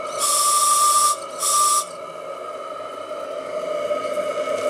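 A model steamboat's shrill, steady whistle blows twice, the first blast about a second long and the second shorter, followed by a low mechanical hum.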